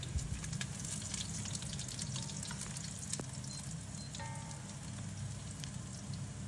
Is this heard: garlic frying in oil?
yes